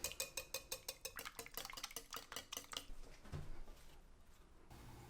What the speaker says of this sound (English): Grab a whisk and mix it all together.